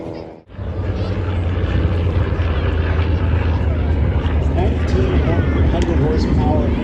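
A Grumman TBM Avenger warbird with a 1,900-horsepower engine drones steadily at a beach air show over the Atlantic, a broad continuous roar that swells in after a brief dip and holds loud throughout.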